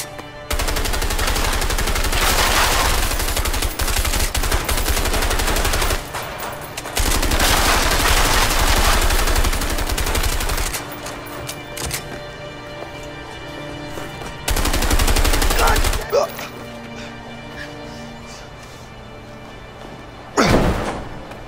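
Sustained bursts of loud gunfire from the video game A Way Out, heavy volleys lasting several seconds each, broken by quieter gaps with lingering mechanical noise and a final sharp shot near the end.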